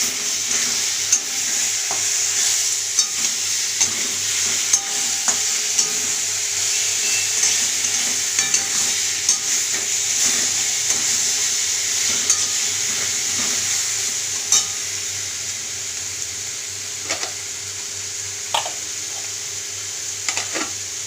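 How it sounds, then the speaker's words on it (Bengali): An onion, tomato and green chilli paste sautés in a pan for a prawn and potato dish, giving a constant close sizzle over twenty seconds punctuated by sharp clicks and scrapes of a spoon stirring against the metal. "আমি একটু পেঁয়াজ টমেটো কাঁচা লঙ্কা পেস্ট করে সেটা দিয়ে দেবো। এইটাকে দিয়ে ভালো করে কষে নেব।"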